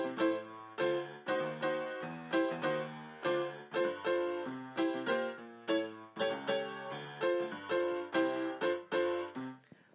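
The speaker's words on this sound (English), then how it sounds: "So that's the piano sound" A family piano playing alone, with a steady run of repeated chords and notes struck in an even rhythm, close and clear, with no voices or other instruments.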